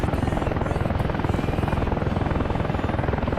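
AH-64A Apache helicopter flying in the DCS flight simulator game, a loud, steady rotor chop with fast, even blade pulses over a dense engine roar, continuous and close.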